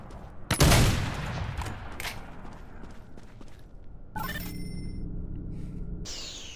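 A super shotgun fires in the VR shooter game Opposer: one loud, close blast with a fading tail, a fainter shot shortly after, then a steady mechanical hum and a brief whoosh near the end.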